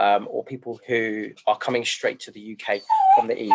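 A little puppy whimpers and yips faintly in the background, its thin high cries rising under a person's steady, close speech.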